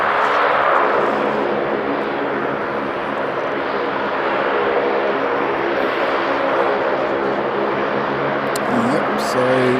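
A Jetstar airliner in 10th-anniversary livery departs Sydney for Hervey Bay, its engines giving a loud, sustained roar that holds steady throughout.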